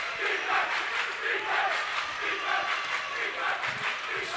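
Crowd cheering and chanting from the stands at a high school girls basketball game, a steady, loud roar with rhythmic rises, under commentary.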